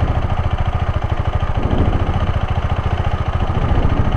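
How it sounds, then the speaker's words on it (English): A KTM motorcycle engine idles steadily close by, its fast, even low-pitched pulsing continuous and alone throughout, with no talk over it. "This is the engine note, yeah?"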